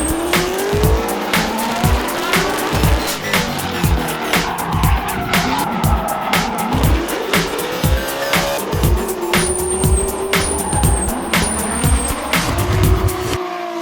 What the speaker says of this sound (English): sacrilegious to lay rubber down on a track like this? Absolutely.